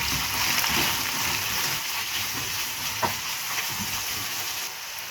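Sliced carrots frying in hot oil with garlic in a pan, a steady close sizzle with faint stirring scrapes running throughout, loud and unbroken with no voices.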